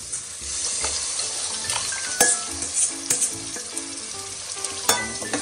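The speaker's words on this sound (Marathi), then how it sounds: "आता हे थोडंसं तेल सुटेपर्यंत त्याला परतून घेऊया आणि मग त्याच्यामध्ये मटण आपण ॲड करूया" Mutton in oil and masala sizzles loudly in a pan, with a crackling, continuous fry broken by several sharp scrapes and clanks of a spoon stirring against the pot, close up and with no voices.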